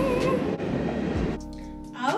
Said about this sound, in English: I live by a train. I'm sorry. While the train goes though